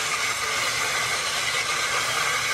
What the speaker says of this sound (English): That is sizzling right there.